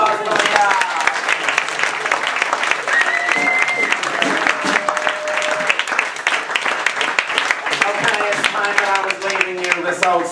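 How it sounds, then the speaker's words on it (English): Circus audience applauding a performer named Leon, loud dense clapping with cheers and voices mixed in throughout. "A big round of applause for Leon."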